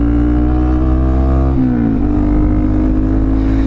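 A Honda Monkey motorcycle fitted with a cheap AliExpress aftermarket exhaust drones loudly and close by, its engine note holding steady then dropping in pitch midway as the revs shift; no speech.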